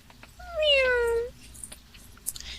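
A cat gives a single drawn-out, falling meow that sounds mournful and sad, close and clear, with soft background noise and no talking.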